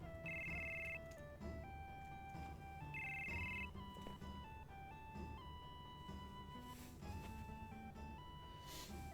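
Phone ringing in the 1997 video game Final Fantasy VII, two short electronic ring bursts repeating over a quiet synthesized music background, faint overall.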